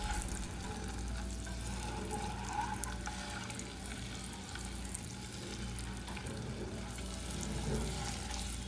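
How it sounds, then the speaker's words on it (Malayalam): Eggs shallow frying in oil in a pan for an egg masala curry give off a continuous, even sizzle and crackle, close and steady throughout with no talking. "എല്ലാ ഭാഗവും ഒന്ന് ജസ്റ്റ് ഒന്ന് ഷാലോ ഫ്രൈ ചെയ്തെടുക്കാം."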